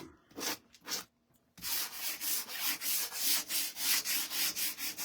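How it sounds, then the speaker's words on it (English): A vintage bird cage is lightly sanded by hand, giving steady rhythmic back-and-forth rasping strokes, close and fairly loud, after a few brief scratches and a short pause. "I am going to just lightly sand it."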